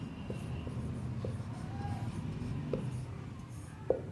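Soft, scratchy strokes of hand-writing, likely a pen or marker, during a Hindi-medium Class 12 biology lesson. They run steadily and faintly over a low background hum, with a few light taps and no talking.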